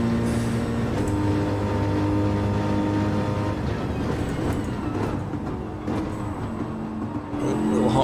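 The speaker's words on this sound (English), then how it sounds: "Can't always hear over the engine." Race car engine in Gran Turismo 7 drones and revs steadily, loud and near, with shifting tone as it accelerates, under intermittent talk.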